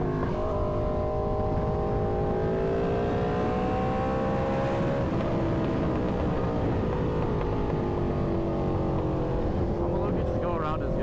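Motorbike engines rev nearby in a loud, continuous mechanical drone whose pitch rises and falls as the throttle changes, with speech mixed in.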